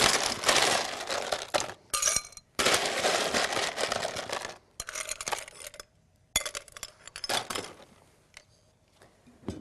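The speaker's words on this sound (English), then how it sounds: "Next, we're going to take our glass and fill it up with ice." Loud clattering and crunching as ice cubes tumble into a glass for an iced vanilla chai drink, in several heavy bursts, with a few pauses and lighter clinks between.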